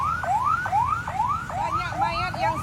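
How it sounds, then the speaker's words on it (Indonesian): An ambulance siren wails in Tamiang, a loud, repeating rising sweep that cycles about six times at close range over a busy street background. "Suara serunya ambulan."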